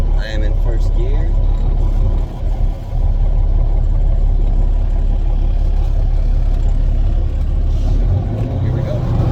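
Kenworth T800 truck engine pulling along in first gear, a loud, steady low rumble filling the whole stretch, with a brief dip in level early on and a voice talking over the drone.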